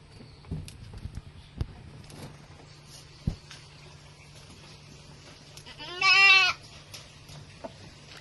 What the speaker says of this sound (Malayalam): വലിയൊരു ആട് ആണ് നല്ല പാലാണ്